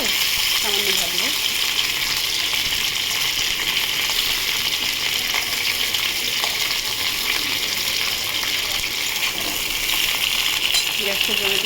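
Kakra (crab) frying lightly in a pan on a gas stove gives a steady, even sizzle with faint crackles and occasional stirring clicks throughout, with no talk.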